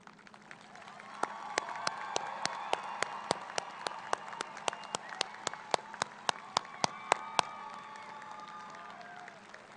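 Applause for honor graduates at a high school graduation ceremony, a moderately distant crowd clapping steadily with some scattered cheering, a few loud nearby claps punctuating the middle before it fades slightly.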